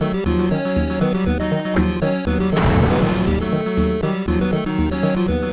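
Busy, looping Game Boy Advance soundtrack music from Lady Sia plays alone, bright and dense, with a bass line repeating under a chiming melody and a brief noisy swell midway through.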